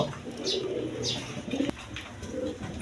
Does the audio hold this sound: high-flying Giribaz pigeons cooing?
yes